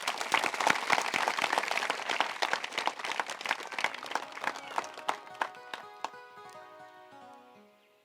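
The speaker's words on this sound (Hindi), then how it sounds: "ताली बजाओ, ठीक से बजाओ।" Listeners at a spiritual discourse clap in a dense burst that thins to scattered claps, while sustained musical tones rise underneath and ring out as the applause fades to quiet.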